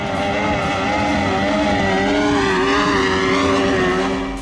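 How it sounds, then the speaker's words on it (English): A Glastron Carlson CT-15 racing boat with a Mercury 1250 engine roars at close range, a loud, steady, high-revving motor drone with layered harmonics. "The Glastron Carlson is equipped with a powerful Mercury 1250 engine."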